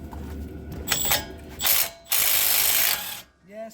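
A ratchet socket wrench loosens bolts during a brake job on a 2015 Dodge Journey. Loud, close pawl clicking comes in several sustained bursts with brief gaps, and a faint voice may be audible near the end.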